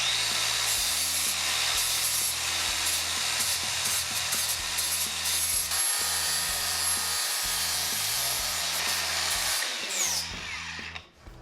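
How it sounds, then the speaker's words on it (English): Angle grinder fitted with an aggressive 80-grit sanding disc working wood, a loud sustained high whine with rising and falling load as it bites, cutting off near the end, no talk. "I'll use this grinder tool to actually get that back down"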